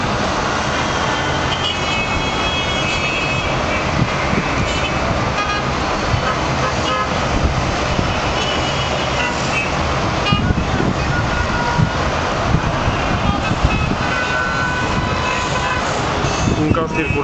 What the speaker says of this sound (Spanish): Un caos circulatorio y todo el mundo lleva la mano en el claxon.